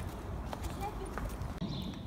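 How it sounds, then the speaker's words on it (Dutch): Faint hoof clip-clops come from a horse at a stable on a cold, snowy day, a few soft knocks heard quietly under people talking. "Ander paardje."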